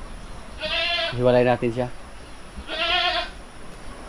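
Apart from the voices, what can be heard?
goats bleating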